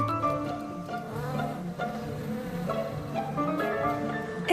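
A steady, dense buzz of tiny stingless mopane bees at their nest entrance tunnel fills the space, many wings humming together at a close, even level with no pauses.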